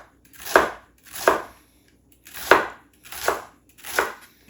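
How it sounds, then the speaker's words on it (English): A knife chops celery on a cutting board in five evenly spaced, crisp strokes, close and clear with silence between them. "So I'm going to go ahead and chop probably half of this up."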